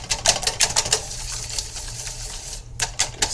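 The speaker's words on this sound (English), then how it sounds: "now we take our whisk and just mix all this up" Wire whisk beating eggs in a bowl for a breakfast casserole, rapid clattering taps against the bowl in quick bursts, close and fairly loud, with a brief pause before the beating resumes.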